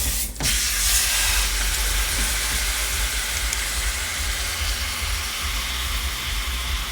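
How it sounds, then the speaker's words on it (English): Beef sears in a hot pan before going into a crock pot, giving a loud, steady hiss that runs unbroken from start to finish, with no voices over it. "We're gonna sear this meat, get it thrown down in there, just enough to sear it before we drop it in the crock pot."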